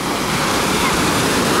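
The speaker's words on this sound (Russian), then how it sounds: "волны явно поменьше, чем вчера, позавчера были, но тем не менее они есть" Sea waves washing onto a beach at Alanya's Oba district in Turkey, a continuous broadband surf wash with slight wind, fairly loud and steady, no voices over it.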